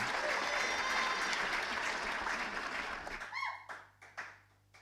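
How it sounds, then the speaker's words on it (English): Audience applause at a live album launch gig in a small venue, loud sustained clapping that thins out and fades near the end, leaving a few scattered claps and murmurs. "Listen to this applause."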